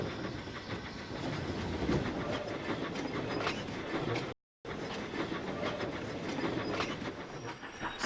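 A small steam engine named Stepney chuffs along a railway line. A continuous rumble of wheels on track and soft hissing steam runs at moderate distance, broken once by a brief gap of silence.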